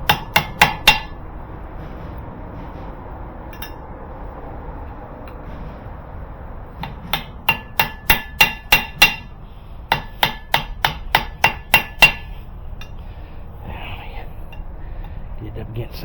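Sharp metallic hammer taps bend lock tabs against a nut while a vehicle lift is installed, coming in quick bursts of several ringing strikes separated by pauses, with a voice talking faintly between them.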